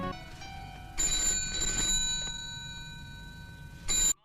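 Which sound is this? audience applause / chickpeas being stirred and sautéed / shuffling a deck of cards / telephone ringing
telephone ringing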